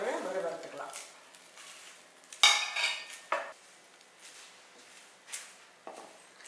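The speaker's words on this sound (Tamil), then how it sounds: "இப்போ இந்த கீரையை லேசாக ஒரு வறுத்துக்கலாம்." Greens being lightly dry-roasted in a pan: a spatula scrapes and clinks against the metal in sparse, irregular strokes, with one sharper knock, over a quiet background.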